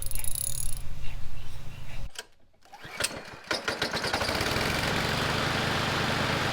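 A PowerSmart 209cc lawn mower engine is pull-started after a brief lull, then settles into a steady, close, chugging idle that continues to the end.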